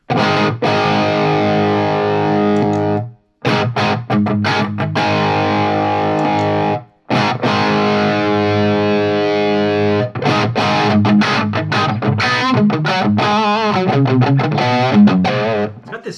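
An electric guitar plays through a budget Amazon overdrive pedal with both sides engaged, giving a thick, distorted tone. Sustained chords ring out loud and close, broken by brief silent gaps, then give way to faster, busier picked lines.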